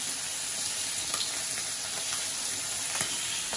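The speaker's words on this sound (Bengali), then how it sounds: "পাশের কড়াইতে ডিম ভরা ট্যাংরা ভাজা হচ্ছে, অনেক বড় বড় সাইজের" Large egg-filled tangra fish fry in hot oil in a kadai, giving a steady, close sizzle with scattered sharp pops and spits throughout and no talking.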